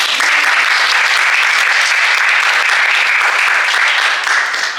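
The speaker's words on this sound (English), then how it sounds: "please give a round of applause for Cruz" Audience applause for panelist Cruz at a Latine History Month panel, a dense, steady clapping from a large crowd that fills the whole stretch without pause.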